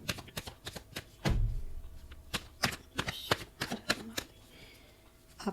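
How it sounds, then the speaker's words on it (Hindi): Tarot cards are shuffled by hand in a quick series of sharp riffling flicks and soft slaps, close and crisp with short pauses between bursts. "शफल करते हैं।"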